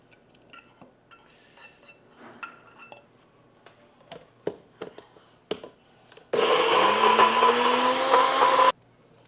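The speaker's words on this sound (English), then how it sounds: "I'm just going to transfer this to the NutriBullet and process it down to a much finer" A NutriBullet blender processing a black cake fruit mixture roars loud and steady for about two seconds near the end, after a run of scattered clinks and knocks as the mixture is transferred into it.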